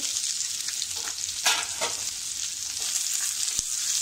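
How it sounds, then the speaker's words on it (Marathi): Onions frying in oil for a Kolhapuri chicken curry, a continuous hiss and crackle close up, with spatula scrapes and a sharp clack of metal against the pan. "तो सुद्धा आपण छान असा गुलाबी रंग येईपर्यंत भाजून घ्यायचा आहे"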